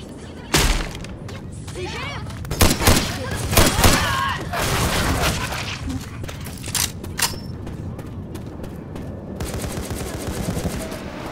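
Sniper rifle fire in Left 4 Dead 2, several sharp, loud cracks spaced apart amid game ambience, with a voice talking over parts of it.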